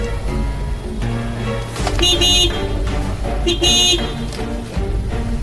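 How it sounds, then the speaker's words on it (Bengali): Car horn honking in repeated blasts, loud and close, over busy traffic rumble; two longer honks stand out among shorter beeps. "শুনতেও পাচ্ছে না, হর্ন দিচ্ছে এতবার।"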